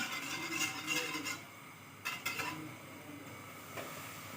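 Flour being stirred and toasted in a pot with ghee while making chicken broth, heard as soft scraping with a few clinks of the spoon against the metal, fairly close and moderately quiet, with no talk.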